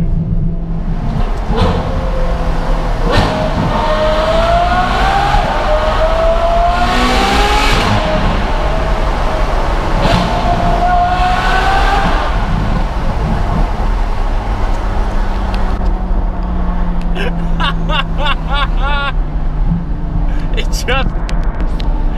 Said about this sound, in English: It sounds like an actual F1 car, but when they were awesome, you know? It sounds like a really good F1 car.